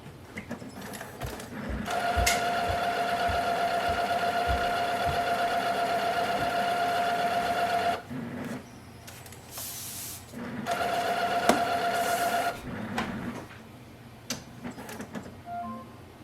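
A Brother MFC-J4535DW inkjet printer runs a printhead cleaning cycle, whirring steadily with a pitched motor tone in two long bursts separated by clicks and short pauses, ending in scattered mechanical clicks.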